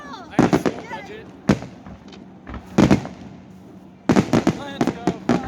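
Fireworks at a Kansas City Royals after-game show crackle and pop in several clustered bursts, with sharp bangs and fizzing trails at moderate distance, while a crowd cheers and people talk nearby.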